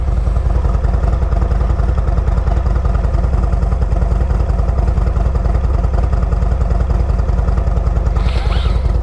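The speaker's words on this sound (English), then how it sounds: "it's coming down a bit now, the old idle." A 2023 Harley-Davidson Road Glide Special with a Screaming Eagle Stage 2 engine idles loud and close, a steady throbbing rumble that runs unbroken throughout.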